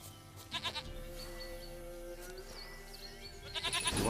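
Goat bleating in the Witcher 3 video game, several short wavering bleats near the start and again at the end, set over a steady ambient game music bed with no talk.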